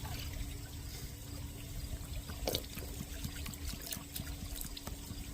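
Water runs steadily into a bucket outdoors beside a river, a continuous close trickle and pour with faint background hum and no voices.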